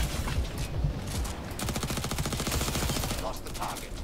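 Sustained rapid automatic gunfire in the sci-fi game Jump Space, a steady rattle of close shots running nearly throughout, with a voice talking faintly beneath.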